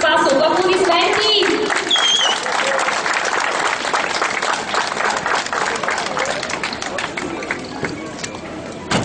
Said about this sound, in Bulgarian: Аплодисменти! Аплодисменти!